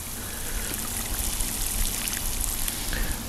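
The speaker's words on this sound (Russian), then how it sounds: "Сейчас мы польем вот этот еще можжевельник." Bucket of cool water poured around a juniper during autumn transplanting, a steady close trickling stream for a few seconds with no voices.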